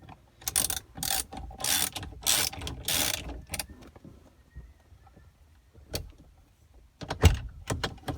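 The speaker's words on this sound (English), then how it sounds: "we're gonna go ahead and crank down on this until the steering wheel pops off" A puller is cranked down on a Nissan Infiniti steering wheel, giving bursts of close ratcheting clicks in quick runs, a quiet stretch, then a few sharper clicks and a knock.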